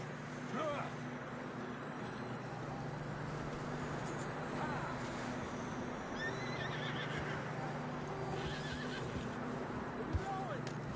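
In Red Dead Redemption 2, a horse whinnies a few times amid steady hoof clops and a low droning background, with people talking intermittently over it.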